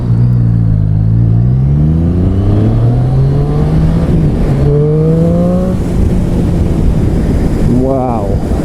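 A 2015 Triumph Street Triple motorcycle engine revs and accelerates up through the gears, loud and close, with wind rushing past and a voice speaking over it.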